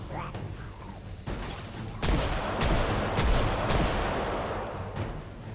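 A 1911 pistol and a Tec-9 fire while clearing a room of a horde in the video game Project Zomboid, several loud, sharp shots cracking in quick succession over a rumbling background, with muffled voices underneath.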